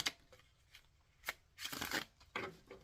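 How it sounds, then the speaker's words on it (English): A deck of tarot cards is shuffled close up, with quiet soft riffles and flicks in brief bursts. "Let me shuffle these."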